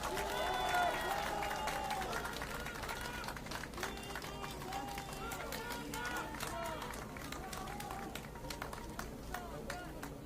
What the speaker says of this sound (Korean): 연일 고생하시는 우리 이준석 대표에게 다시 한번 뜨거운 박수 한 번 부탁드리겠습니다